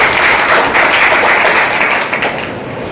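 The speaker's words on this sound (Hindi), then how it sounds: "तो नोनी जूस के लिए एक बार जोरदार ताली होनी चाहिए।" An audience at a product training seminar breaks into loud, dense clapping, a steady close wash of hand claps that tapers slightly near the end.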